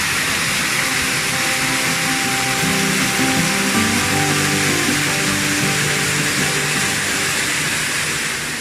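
Waterfall at Cascadas el Suro near Yangana, Ecuador, a water curtain over green algae-covered rock, roaring loudly and continuously from close by with no break in the rushing wash.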